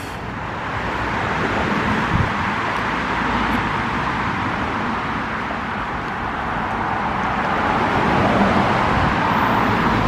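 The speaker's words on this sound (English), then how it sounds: "Right next to the main road again with the noise." Continuous traffic roar from a main road beside woodland, a steady broadband wash of passing cars and vehicles that swells slightly over time, with no talk.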